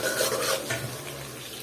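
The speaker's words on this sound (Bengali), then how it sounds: "আর পেঁয়াজটা একটু নেড়ে ছেড়ে দিলাম।" Chopped onion hits hot oil and is stirred in a pan, producing a bright sizzle with a clinking utensil scrape at the start before settling into a steady, softer frying hiss.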